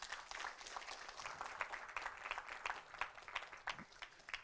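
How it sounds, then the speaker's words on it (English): An audience at a retail and economic resilience forum applauds the panelists, a fairly quiet, uneven patter of individual claps from a modest crowd that continues throughout. "Round of applause, ladies and gentlemen."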